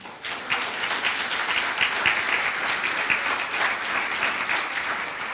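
A church congregation at a baptism service breaks into sustained applause and clapping, a dense crowd sound that swells in and holds steady, with faint voices mixed in.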